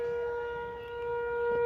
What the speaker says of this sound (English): So y'all know they test them sirens.